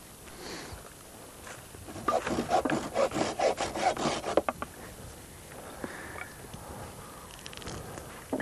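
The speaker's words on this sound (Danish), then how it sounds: "Sådan, så saver du der." A hand saw cuts through wooden window mullions in a workshop, a burst of rapid rhythmic rasping strokes heard up close and loud, with quieter handling noise and light shuffling before and after.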